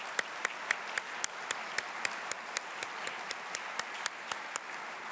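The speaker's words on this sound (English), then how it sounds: "Could we get a round of applause for everybody who contributed?" Premiere audience at a gala screening about the 1916 Irish Rebellion, with a rhythmic series of single sharp claps rising above a low crowd murmur.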